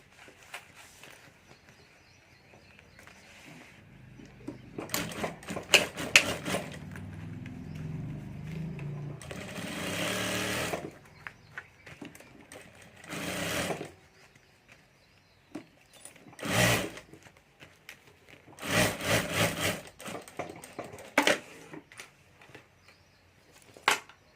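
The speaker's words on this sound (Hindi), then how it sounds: "तो यहाँ भी ऊपर मैं सिलाई कर देता हूँ।" A sewing machine stitches along the top of a hand bag lining, running in several short bursts of varying length separated by pauses and handling noises, with louder whirring spells near the middle and end.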